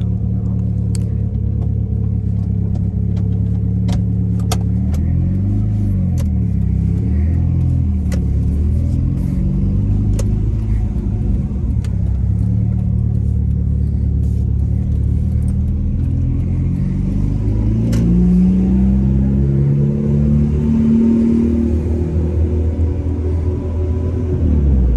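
Interior of a Mitsubishi Evo 7 driving on roads in Suffolk, England: a loud, continuous engine drone and road rumble with rising and falling revs through gear changes, plus occasional small clicks, and no one speaking.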